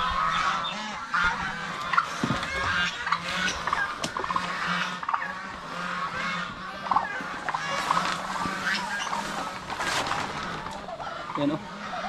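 Busy chorus of guinea fowl calls, repeated harsh cackling and chattering from several birds at once, steady throughout against a noisy outdoor background.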